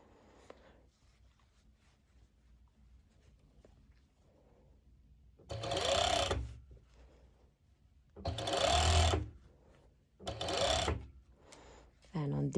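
A sewing machine stitches fabric for front-ruched leggings in three loud bursts of rapid mechanical whirring, separated by quieter gaps filled with handling noise as the material is pulled and guided.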